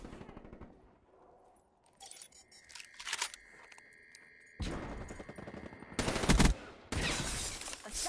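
Gunfire from the video game Black Ops 3 arrives in several loud, dense bursts, the heaviest ones coming toward the end, with quieter game noise and a sustained tone between the bursts.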